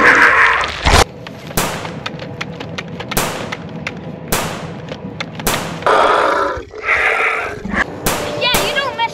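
Nerf blasters firing in a mock battle, with sharp repeated pops and thumps at irregular intervals, loud and close, under excited shouting voices.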